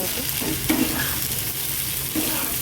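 Potatoes fry with spices in a pan for a fish curry with potato and eggplant, giving a steady close sizzle with a few soft stirring scrapes and no voices.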